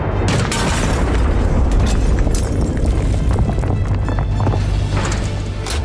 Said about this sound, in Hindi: वार फ्रंट पर घातक हथियार बारूद उगल रहे हैं।